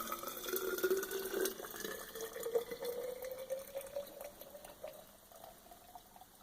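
Water pours into a Tundra copper-lined bottle, filling it to the brim with a rising gurgle as the pitch climbs steadily, fairly quiet and close with no voices.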